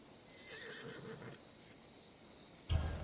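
A war horse in Assassin's Creed Odyssey whinnies in a brief, loud burst near the end, after a quiet stretch of faint ambient hum.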